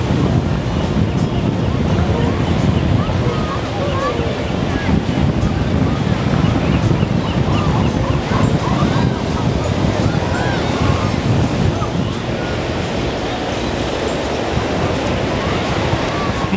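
Pacific Ocean waves and surf at the beach by Santa Monica Pier make a loud, continuous roar of breaking water mixed with wind buffeting the microphone, sustained without pause across the whole stretch.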